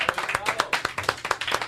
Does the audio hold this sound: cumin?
no